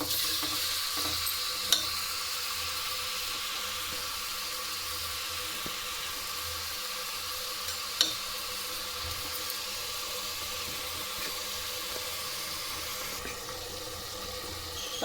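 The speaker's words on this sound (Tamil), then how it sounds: "இதை ஒரு 5 நிமிஷம் நல்லா வதக்கிக்கலாங்க." Mutton sautéing in a pan for mutton kulambu, a steady sizzle throughout with occasional clinks of stirring, close and even, no talk.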